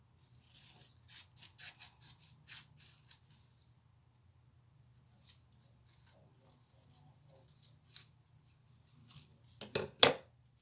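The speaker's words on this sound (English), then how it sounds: "What I'm gonna do is fussy cut" Scissors fussy cut red and white striped paper, giving a series of faint, quick snips and rustles with pauses, ending in a couple of louder close clicks.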